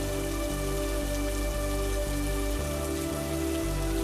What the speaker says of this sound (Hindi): ऊपर से बारिश भी होने लगी।